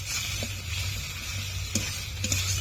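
Salt and ground black pepper being stirred into marinated chicken frying for palak chicken, a steady broadband sizzle with a few soft spoon scrapes, fairly close and alone.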